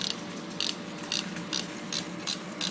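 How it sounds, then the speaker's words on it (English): An antique wobbling toy pushed across a floor gives a rhythmic series of short ratcheting clicks, about six evenly spaced bursts, heard over a steady air-conditioner hum. "It wobbles and quacks."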